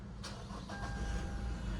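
Toyota Fortuner 2.8 litre diesel engine starting: a short starter burst, then a rough diesel idle that settles into a steady low rumble with a faint whine, heard alone and fairly quiet.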